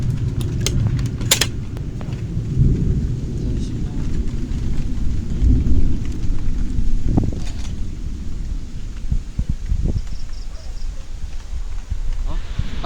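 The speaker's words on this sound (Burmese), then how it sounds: "အခုတော့ရွာပြီပေါ့နော်" Steady rain pours during the rainy season while low thunder rumbles underneath, with a few sharp clattering knocks early on and occasional thuds, a continuous dense wash throughout.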